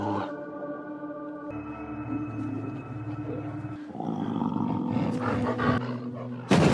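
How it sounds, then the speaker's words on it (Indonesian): Wolves growl and snarl in a tense film scene on barren, dry ground, a low rumbling growl that rises into louder, harsher snarls over a steady droning musical score, with a sudden loud burst at the end. "muncullah para serigala yang kembali memburunya"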